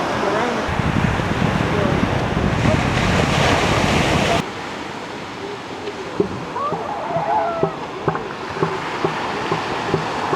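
Ocean surf breaks on a California beach, a loud steady wash with wind buffeting the microphone, easing to a softer roll partway through with scattered knocks.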